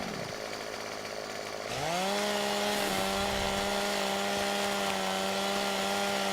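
A chainsaw revs up in Farming Simulator 17 and then cuts steadily into a big tree, its loud, sustained engine whine holding close and continuous for several seconds.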